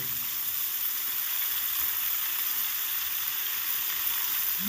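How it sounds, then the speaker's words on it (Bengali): Long-cut carrots and cauliflower florets stir-fry in a pan for a mixed vegetable dish, a constant even hiss of frying that stays close and unbroken, with no talk over it. "লম্বা লম্বা করে কাটা গাজরগুলোকে দিয়ে দিলাম একটু নেড়ে চেড়ে দেবো এবার দিয়ে দেবো ফুলকপিগুলো"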